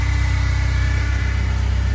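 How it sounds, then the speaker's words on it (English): A freshly rebuilt BMW M42 four-cylinder engine idles in a BMW E30, making a smooth, steady, close hum with an even pulsing throb that never changes pace. "Engine's running, it's in the car."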